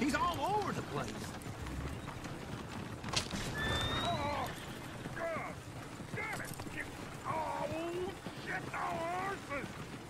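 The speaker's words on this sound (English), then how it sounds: "Oh, shit, the horses." Horses in the video game Red Dead Redemption 2 whinny repeatedly in loud, rising and falling neighs while hooves clop steadily underneath, with people talking over the commotion.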